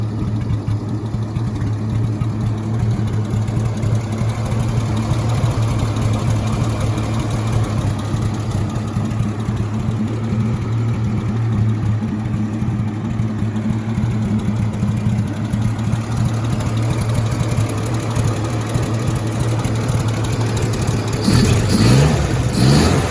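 A 1956 Dodge H6 truck running on its first drive since 1989, its engine giving a steady, loud, low drone throughout with a slight shift near the end, no talk.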